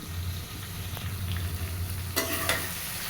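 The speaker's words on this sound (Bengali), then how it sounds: "এখন এর ভিতরে আমি ভেজে রাখা আলু আর ডিমটা একটু দিয়ে" Fried potatoes and egg hit a spiced paste in a pan, a steady close sizzle with stirring, then two sharp scrapes and clatters of the spoon against the pan near the end.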